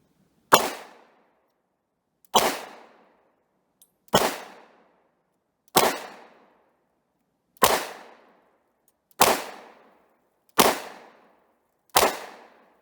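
A Romanian TTC Tokarev pistol in 7.62x25mm fires one-handed at a shooting range: eight loud, sharp shots spaced about two seconds apart, each cracking and then fading quickly, with no talking.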